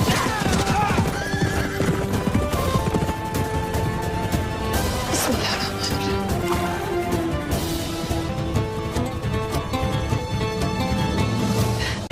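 Horses being readied for riders neigh and whinny over steady clip-clopping hooves, dense and loud throughout alongside a full dramatic music score, with no talk.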